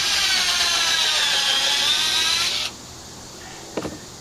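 A cordless battery drill bores a pilot hole in wood while a tractor shed is being extended, whining steadily and loudly for over two seconds before stopping abruptly, followed by a brief knock.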